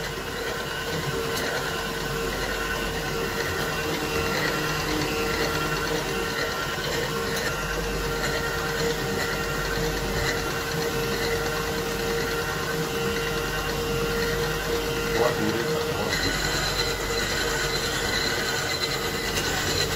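A hand-cranked milk cream separator runs continuously, its spinning bowl giving a steady metallic whine with layered humming tones and faint rattling, and no one speaking.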